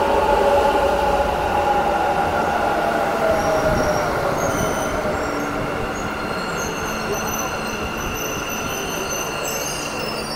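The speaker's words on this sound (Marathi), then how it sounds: "आता येईल मेट्रो." A Bangalore metro train arrives at platform 4, a loud rolling rumble with squealing wheels and bright tonal whine that fades slightly as it slows, heard up close.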